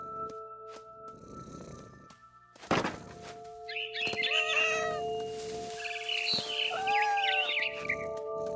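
Meowing from a cat character in the What Remains of Edith Finch video game, heard as several drawn-out meows and chirpy cries over a soft musical drone, with a thump partway through.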